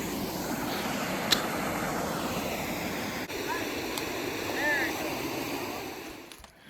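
A mountain creek near a campsite rushes steadily as broadband water noise, close and continuous, with a few brief clicks and faint tonal chirps over the flow.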